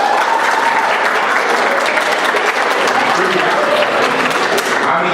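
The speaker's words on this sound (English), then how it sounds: "we'll ask the audience on this one by clapping" A quiz-show audience claps in a steady, dense burst to vote on a math trivia answer, sustained applause filling the hall at close range.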